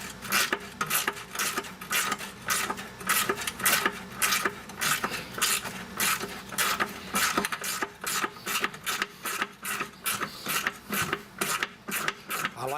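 A small hand ratchet works a battery bolt on a 2011 Chrysler 200, giving a fast, even run of sharp metallic clicks that carries on steadily, close and moderately loud.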